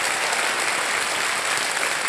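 Loud, continuous studio audience clapping for a contestant on the Indian TV quiz show Kaun Banega Crorepati, an unbroken wash of applause with no talking on top.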